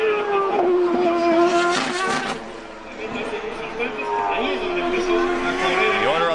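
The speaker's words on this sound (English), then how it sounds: "Heavy braking area from over 200 miles an hour for turn 1." CART race cars at Mexico City qualifying in 2002, engines droning loud and steady with pitch shifts as they brake heavily from over 200 mph into turn 1, under continuous commentary.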